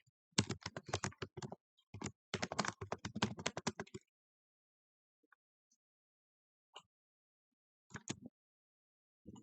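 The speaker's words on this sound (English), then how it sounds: "So you can type the text here." Text typed on a computer keyboard while designing in the Canva app: two quick, dense bursts of close, crisp key clicks, followed by a few sparse, isolated taps separated by silence.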